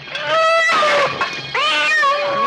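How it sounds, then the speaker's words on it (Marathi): A cat meows loudly and close by, two drawn-out, whining meows one after the other, with no talking. "ती मांजर आहे."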